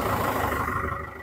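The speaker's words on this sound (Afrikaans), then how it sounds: "Gooi die trekker op start." A farm tractor engine turning over and running as it is started to drive a feed mixer, a steady loud low rumble with a constant mechanical drone throughout.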